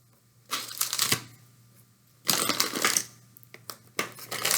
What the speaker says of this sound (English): Count the crackers as I put them on the plate.